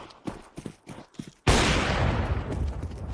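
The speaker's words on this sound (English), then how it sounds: "You've heard the AWP rattle off in towards middle" AWP sniper rifle fire in a competitive Counter-Strike match breaks out as a sudden loud blast with sustained crackling gunfire after a few soft footstep-like taps.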